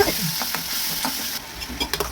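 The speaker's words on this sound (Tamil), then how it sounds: "இதில் லைட்டாக அந்த எண்ணெயில் ஜூஸை கொட்டிட்டு லைட்டாக கொதிக்க விட்டுட்டு" Sizzling of juice poured into hot oil in a pan while making mixed rice, with stirring scrapes and crackles; a steady close-up sizzle with a few brief clicks, no talking.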